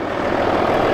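A Volkswagen Passat V6 TDI 4Motion diesel engine idles at a junkyard, a steady low rumble holding at even loudness with no speech.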